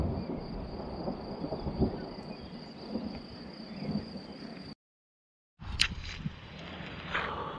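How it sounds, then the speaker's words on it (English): Distant thunder rolling in outdoors in Mrtvica Canyon, Montenegro, a low continuous rumble under steady insect or cricket chirping, broken by a brief silence before the ambience resumes. "Yeah, some thunder rolling in."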